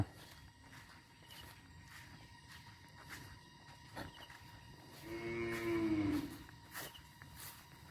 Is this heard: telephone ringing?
no